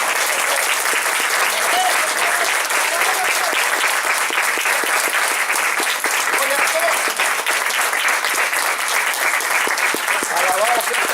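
A church congregation breaks into loud, continuous applause, a thick, close wash of many hands clapping steadily throughout, with voices faintly mixed in beneath it.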